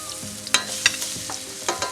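Garlic fries in hot oil with a loud, close sizzle broken by several sharp clicks and scrapes of a utensil against the pan, with no voices.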